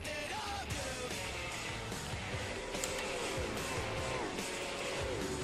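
V8 race cars at Bathurst in a racing video game, engines droning and shifting pitch continuously as they run together, a steady mid-level roar with brief higher whines rising and falling.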